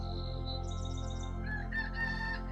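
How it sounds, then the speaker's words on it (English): A rooster crows in the background over a steady low hum, its call rising and trailing off, moderately faint. "Sorry if you can hear our rooster."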